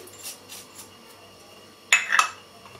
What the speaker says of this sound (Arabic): غادي نشد واحد الكاسرونه وغادي نديرو فيها هاد هاد المكونات غادي نديرو فلو القهوه